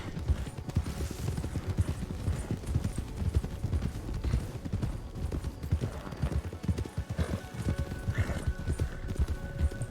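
A horse in the RedM roleplay video game eases into a lope, its quick, rhythmic clip-clop of hooves running close and continuous throughout, with a faint whinny partway through.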